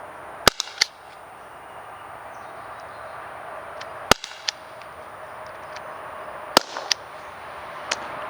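Sharp, isolated cracks from a Byrna LE less-lethal launcher firing rounds at a dummy, several loud snaps spaced a few seconds apart, some in quick pairs, over a quiet outdoor background.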